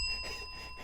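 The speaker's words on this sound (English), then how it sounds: "I love the bell. I totally forgot the bell." A small bell gives a short, bright ring that sustains briefly over a low background murmur.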